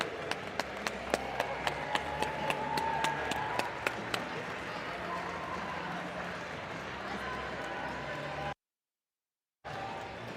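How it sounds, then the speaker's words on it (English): An audience applauds at a FIRST robotics district competition at Lake Superior State University. A few sharp claps lead into sustained clapping and crowd noise before a brief dropout, then the applause returns. "let's give a big round of applause for Alliance number"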